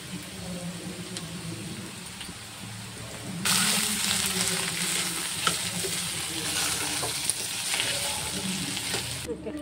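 Pieces of snake gourd fry with salt in a pan, giving a steady, close sizzle and crackle that grows louder partway through and continues unbroken, with occasional faint stirring clinks.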